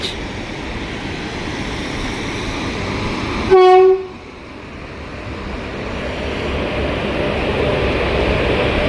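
An electric train passes with a steady rumble, a loud horn blast sounds once midway, then the rolling noise continues and slowly swells.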